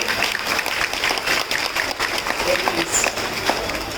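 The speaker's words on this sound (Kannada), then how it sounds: "ಜೋರಾಗಿ ಚಪ್ಪಾಳೆ" Audience at a Women's Day celebration event clapping loudly, a dense, steady wash of applause throughout with voices mixed in.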